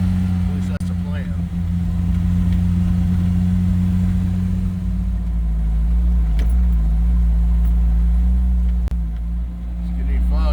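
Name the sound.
off-road rigs driving in snow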